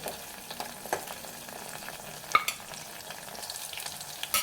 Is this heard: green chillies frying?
yes